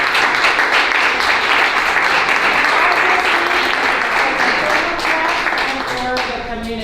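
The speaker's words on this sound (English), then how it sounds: "give her a really hard applause" Loud, sustained applause from a crowd at a DC Latino Caucus endorsement event for a Democratic candidate in Washington, D.C., steady clapping that fades slightly toward the end while a voice speaks over it.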